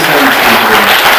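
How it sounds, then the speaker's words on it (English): A brief burst of steady clapping from an audience at a 2024 candidate forum, loud and close, filling just over a second. "So I'd like to give you also a round of applause"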